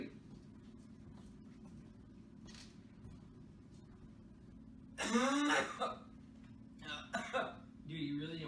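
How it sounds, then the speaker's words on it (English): A person coughs and clears their throat in a short, loud burst after a long stretch of low background hum, followed by a few more scattered coughs or throaty sounds. "I heard you coughing"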